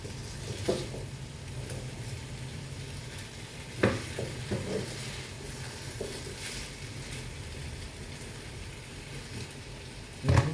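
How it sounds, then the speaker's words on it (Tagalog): Diced carrots sautéing in a pan for chicken curry: a steady, close sizzle under repeated stirring, with occasional sharp clinks and scrapes of a utensil against the pan, and no talking. "Yan, ginigisa ko po muna bago ko ihalo po dito."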